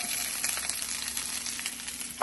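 Onions and garlic frying in hot oil for chili con carne, giving a steady, moderate sizzle across the whole stretch, ending in a short knock of utensil or pan, no talking.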